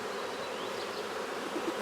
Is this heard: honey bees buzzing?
yes